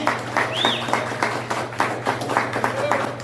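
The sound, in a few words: congregation applause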